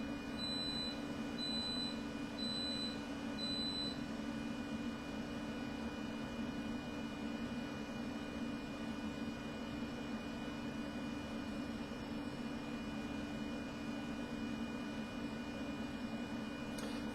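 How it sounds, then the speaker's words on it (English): A steady mechanical hum with a whirring drone from a running rice cooker, with a few brief high-pitched beeps near the start. "That's the sound of my rice cooker."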